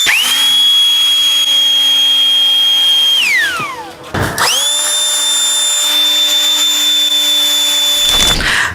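A Violent Fan 48V cordless air blower running loud and close, a high whining roar that spins down and cuts off, then starts up again and runs steadily before stopping.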